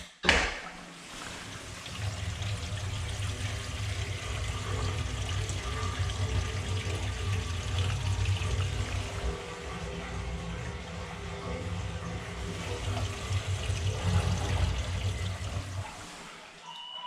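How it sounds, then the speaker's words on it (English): Water drains out of a shower or tub, a steady low gurgling rush that runs for most of the stretch at moderate volume after a brief click at the start. "and then we'll let the water out"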